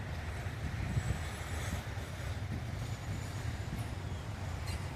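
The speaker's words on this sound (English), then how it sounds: "You can hear in the background our famous track over there making some noise." A Norfolk Southern intermodal freight train rolls around a curved track bend near Binghamton. It makes a steady, low, distant rumble with faint wheel squeal, and no one speaks.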